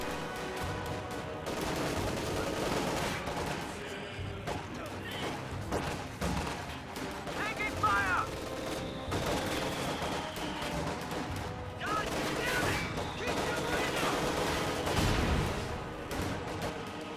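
Mortar shells and gunfire crackle through a Company of Heroes match, with bursts of rifle and machine-gun fire, crashes and booms layered into a continuous battle din, some distant and some closer, at moderate level.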